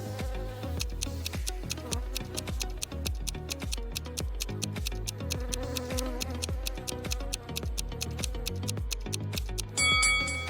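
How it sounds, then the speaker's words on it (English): Wasps buzz from a disturbed nest, a continuous droning swarm layered over a steady, rhythmic ticking like a clock. "Betty stepped on a wasp nest. Wasps were everywhere."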